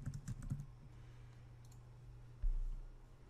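Soft, quick keystrokes and a few clicks on a computer keyboard, close and quiet, with a brief burst of typing followed by low background hum.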